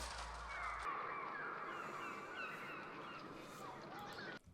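A dense flock of birds from the 1963 film The Birds fills the scene with continuous overlapping honking and cawing calls, a steady raucous chorus heard faintly, with no voices.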